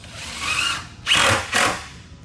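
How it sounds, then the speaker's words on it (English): A power drill drives screws through the back into the rails while a base blind corner cabinet is assembled, a close, loud whirring run followed by two short bursts of the motor, with no talking. "So now just run the screws in the backs into the rails."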